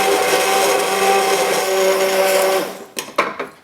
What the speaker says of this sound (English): So now add the orange juice and puree the soup with a stick blender.